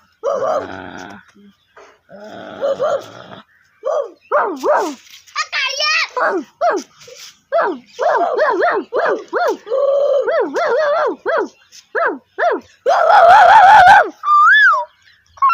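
A child imitates a dog with a run of short, yappy barks and whimpering sounds, close and loud; a whistled bird-like call briefly follows near the end.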